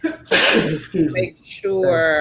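A single sharp sneeze bursts out near the start during a live stream, followed by someone speaking close to the microphone.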